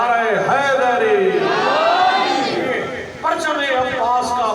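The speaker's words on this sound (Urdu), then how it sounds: "جیسا نعرے کا حق ہے لگائے نعرہ حیدری" Crowd at a Shia majlis gathering in Multan raising a loud, swelling shout of the Naara-e-Haideri slogan, voices rising together in a drawn-out call, with a speaker's voice over it.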